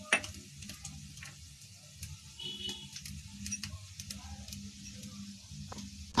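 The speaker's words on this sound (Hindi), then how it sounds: "ये हल्दी हमारी भुनने लगी है" Raw turmeric roasting in a pan for turmeric ladoos gives a faint, steady sizzle with scattered light ticks and scrapes over a low background hum.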